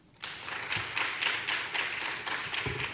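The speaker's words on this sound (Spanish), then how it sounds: "Por favor, reiterar los aplausos." Applause from a conference audience at a dental aesthetics congress talk breaks out abruptly and continues as an even, moderately distant clatter of many hands for several seconds.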